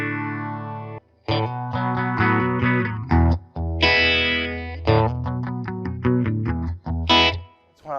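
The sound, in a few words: electric guitar through phaser pedal, Fender Princeton Reverb ToneMaster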